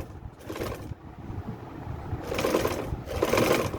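A sewing machine stitches a garment sleeve, running in short bursts of fast mechanical whirring that stop and start, close up, louder toward the end.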